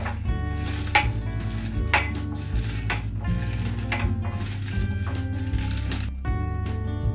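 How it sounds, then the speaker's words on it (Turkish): Cabbage for pickles is stirred in a container, with repeated light clinks and knocks of a utensil against the dish. Steady tonal background sound runs underneath. "ve lahanayı karıştırıyoruz"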